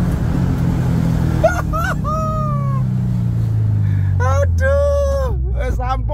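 Tuned VW Combi engine roaring and accelerating up close, a deep rising rumble that builds and holds across the clip, with excited voices talking and exclaiming over it.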